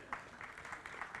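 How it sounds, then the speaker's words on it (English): Brief applause from a science communication competition audience, a quick flutter of clapping heard faintly across the room. "give them an applause for hardiness"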